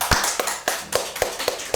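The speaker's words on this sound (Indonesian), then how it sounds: "Tepuk tangan, luar biasa" Sharp, evenly spaced hand claps, about eight distinct loud slaps in a steady rhythm, close and clear with little else around them, at a gathering praising a member of parliament.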